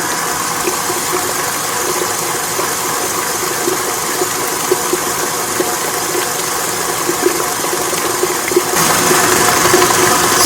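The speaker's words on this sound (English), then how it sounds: "we're going to fit this mixer with the whisk and get this whipped up real well on high for a minute" A stand mixer fitted with a whisk whips pastry cream on high speed, a steady loud whirring drone that runs unbroken throughout, with no talk.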